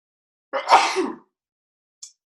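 A single close, sharp sneeze bursting out in a quick blast, then a tiny faint click after a pause; no talking.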